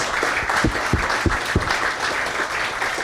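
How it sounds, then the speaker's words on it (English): Audience applause at a bar talk event on faith, medicine and ethics, a steady wash of many hands clapping for about three seconds, with a few sharper individual claps standing out near the front of the room. "So can we just give a round of applause real quick one more time for Robert and Paul?"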